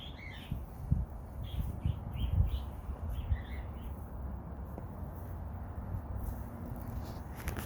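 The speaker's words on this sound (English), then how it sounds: "what house can you say has their own private bird sanctuary?" Faint chirps and tweets from birds in a private bird sanctuary come in scattered short bursts over a low, rumbling outdoor background.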